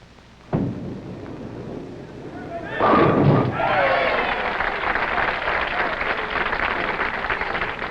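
Bowling ball striking the pins at a 1969 PBA Miller High Life Open semifinal, a sharp thud followed by a burst of crashing pins, then a crowd cheering and applauding that runs on under a commentator's voice.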